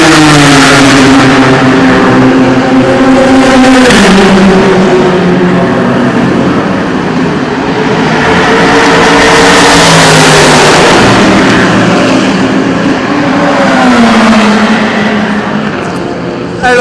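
Ferrari and Porsche race cars lapping during qualifying at the 24 Hours of Le Mans, loud engine drone rising and falling as cars pass, sustained roar across the whole stretch.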